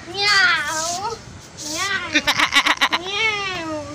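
A child imitates a cat, drawing out several wavering meows, with a burst of quick giggly syllables in the middle.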